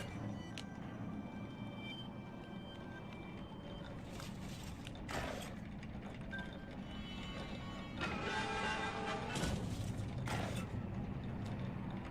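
Gear machinery grinds and turns in the fantasy video game Child of Light. A steady mechanical rumble carries sharper clanking surges, with no talking.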